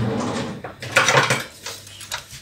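A spoon mixes dal in a metal pot, giving a short run of close scraping and clinking strokes, with one brief pause between them.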